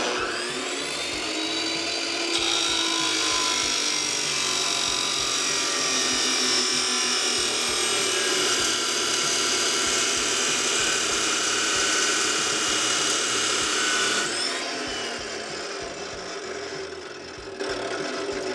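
A Kobalt 14-inch chop saw cuts through flat steel with a loud, sustained high-pitched abrasive screech and whine that runs for about fifteen seconds and then winds down, with no talk.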